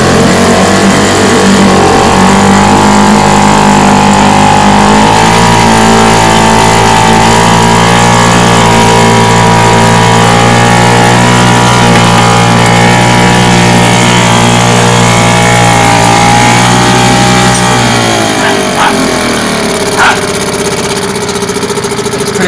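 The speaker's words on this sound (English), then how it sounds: "So give it a bit of revs." A racing boat engine revved for an extended stretch, a loud, steady mechanical roar with rising and falling harmonics that drops off near the end, followed by a few clicks and a quieter idle.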